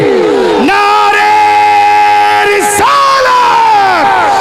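A large crowd at an Islamic religious gathering shouts a chanted slogan in unison in answer to a preacher's call, loud and sustained with rising and falling voices over several seconds.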